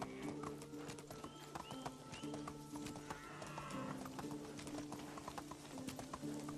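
Horse hooves clip-clop in a steady rhythm while riding through forest in the video game Medieval Dynasty, with a low humming game soundtrack underneath and no talking.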